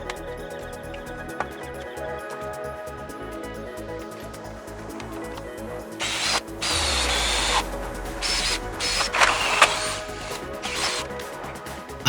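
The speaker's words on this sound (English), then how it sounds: "I spent several hours trying to drill and chisel this bushing out." A power drill grinds at a stubborn bushing on an old BMW in a garage, starting with low mechanical whirring and rattling, then bursting into louder, harsher drilling for several seconds with clanks and scrapes.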